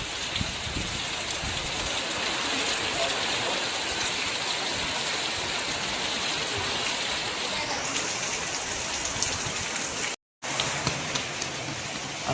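Steady rain falls outside a home in the Konkan region while chicken vadas are cooked on a wood-fired stove, a dense, even hiss that carries on without a break except for a brief cut near the end.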